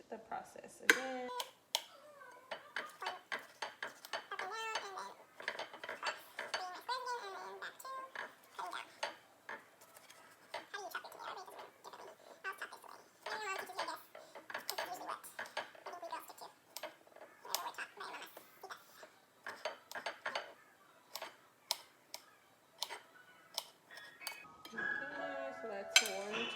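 A knife dices a tomato on a cutting board for pico de gallo, giving a steady run of quick close taps and clicks with some kitchen clatter over nearly the whole stretch.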